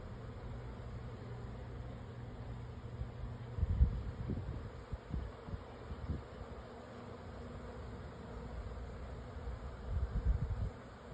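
Bees buzz steadily in a low drone, with bursts growing louder as insects pass near, over faint outdoor noise.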